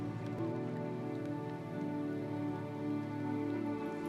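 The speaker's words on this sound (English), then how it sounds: "Suddenly the clouds covered the sky and a cold drizzling rain began." A cold drizzling rain falls at a mountain lake, a soft, steady patter of drops on surfaces under a faint low hum, continuous and fairly quiet throughout.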